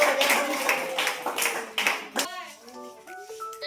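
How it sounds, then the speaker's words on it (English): An audience claps for a student singing group, with a burst of close hand claps at the start that thins out and gives way to a held sung or tonal note and some scattered sounds. "so let's clap for them."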